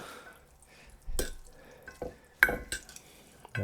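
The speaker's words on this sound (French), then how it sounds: "Et après, eh ben, il n'y a plus qu'à touiller." Spoon stirring a batter mixture in a bowl, with soft wet scraping and a few sharper taps against the bowl in an irregular rhythm, fairly close and without speech.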